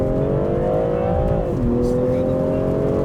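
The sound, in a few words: car launching and accelerating hard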